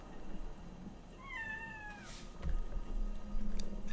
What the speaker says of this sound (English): I think one of the cats has come home.